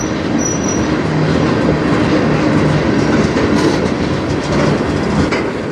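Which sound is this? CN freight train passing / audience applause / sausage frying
CN freight train passing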